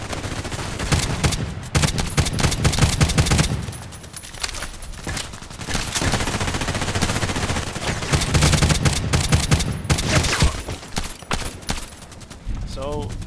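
Dense, sustained gunfire in the Contract Wars video game with an HK G36C rifle, rapid cracks overlapping almost continuously throughout, with a voice talking over the shooting at times.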